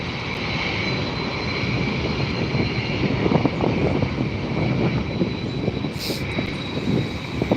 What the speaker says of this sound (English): Copa Airlines departing